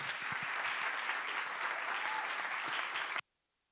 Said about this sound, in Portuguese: Uma salva de palmas.